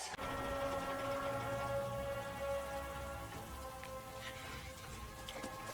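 Steady rain pours down during a night scene in a fantasy TV series, a dense continuous patter of drops on surfaces filling the whole moment without speech, with a faint musical tone running underneath.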